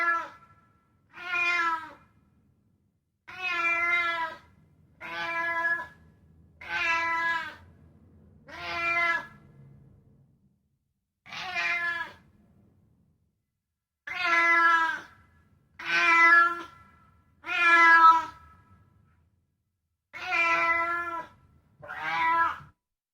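A domestic cat meows repeatedly and loudly close by, about a dozen drawn-out calls spaced by short silences, with no other sounds in between.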